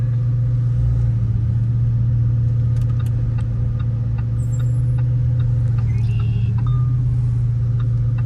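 A Lamborghini supercar's engine drones steadily while the car is driven, a loud continuous low hum with road rumble and no revving peaks, joined by a few faint higher tones near the end.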